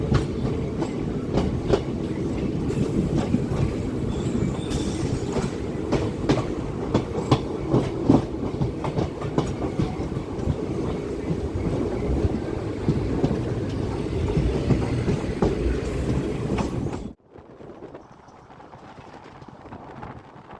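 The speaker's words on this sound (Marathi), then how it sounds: "आपली गाडी आता लूप लाईनवरून आता मेन लाईनवरती येत आहे" A Miraj–Kolhapur DEMU train crosses from the loop line onto the main line, a loud sustained rumble with dense wheel clicks over the points, then dropping suddenly to a quieter hum near the end.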